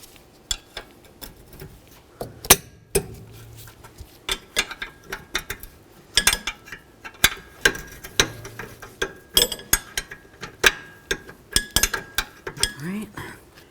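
A ratchet with a 19mm socket works the rear brake caliper bracket bolts on a 2012-2020 Nissan Pathfinder, giving scattered, irregular metallic clicks and clinks, close and moderately loud.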